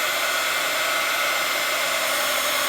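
A heat tool melting embossing powder on a stamped paper craft gives a steady, loud blowing whir with an even hum, running continuously and close by.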